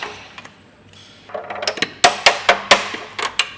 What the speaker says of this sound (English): And then just hit the clamp a few times to loosen it.